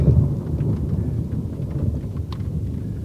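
Heavy rain drums steadily during a thunderstorm over a ridge while a deep roll of thunder rumbles throughout, loud and close, with no talking.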